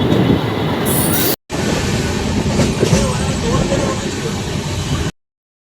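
A passenger train running on rails between Asansol and Chittaranjan, heard from inside: a loud continuous rumble of wheels with rattling and brief squealing, broken by a short gap and ending abruptly.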